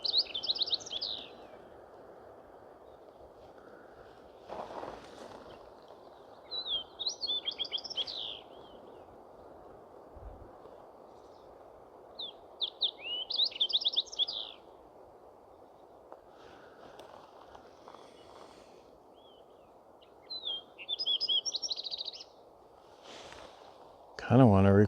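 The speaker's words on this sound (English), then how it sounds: "These birds are very nice too." Birds sing outdoors on a hiking trail, bright short phrases repeating every few seconds over a steady background of wind or ambient noise, with a few brief nearby sounds between phrases.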